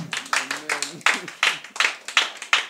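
A church congregation claps in a quick, steady rhythm to acclaim Jesus, with a voice briefly heard over the sharp, evenly spaced claps.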